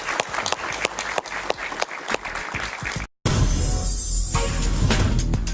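Studio audience applause for José Luis Espert on Jaime Bayly's television talk show, a dense burst of clapping that cuts off abruptly, then resumes louder and fuller, with a heavy low rumble.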